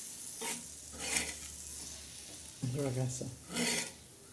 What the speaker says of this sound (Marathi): तर आता आपण ही खुरसणी टाकली आहे मग ते हालून घ्यायचं आता छान असं आपण हालून घेणार